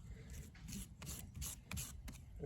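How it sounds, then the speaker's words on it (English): Hardener is stirred into body filler for a boat hull repair, heard as soft, close scraping and rubbing strokes repeating in an uneven rhythm, faint with no voices. "So just mix a little dab of the hardener in with that."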